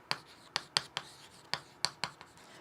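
Chalk or marker taps and strokes on a board while math is written, about eight crisp, distinct contacts at an irregular pace, close and clear with no talking.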